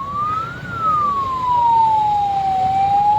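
An ambulance siren wails steadily, its pitch rising then slowly falling as it passes through a farmers' protest road blockade, over a low rumble of traffic.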